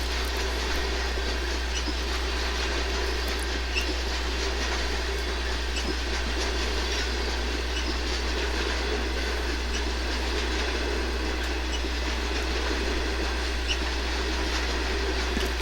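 Grand Trunk Western freight train with coal hoppers rolling past in Granger, Indiana, a steady loud rumble and rail noise throughout, with a strong low hum and no voices.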